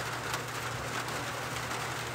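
Steady rain falls on a surface nearby, a dense, even hiss of drops with no pauses and no voices heard.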